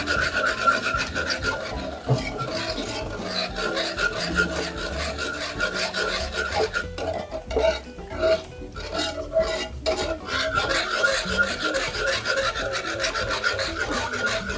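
A wooden spatula scrapes and rubs steadily through a thick heated plant-based mixture, a continuous close rasping stir with no talk.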